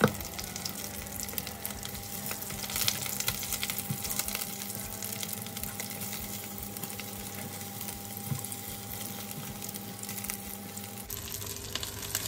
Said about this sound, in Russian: Нам нужно обжарить с двух сторон.